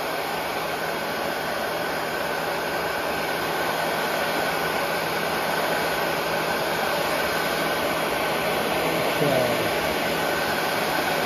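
Heat gun blowing hot air onto crinkle powder paint on a metal spinner blade, a steady loud whooshing hiss with a constant motor hum, unbroken and alone.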